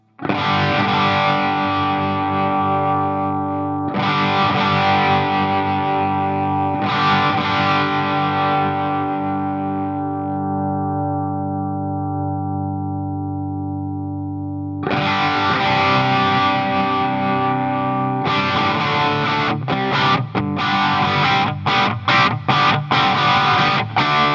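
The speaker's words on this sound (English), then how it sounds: "Let's go to the clipping on 1 and make it overdrive." An electric guitar runs through the Line 6 Helix overdrive distortion effect, with sustained gritty chords ringing out, then a pause, then choppy palm-muted strums. It is loud and close with no talk.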